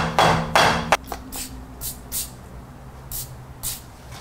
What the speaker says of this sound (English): I need a heavier hammer.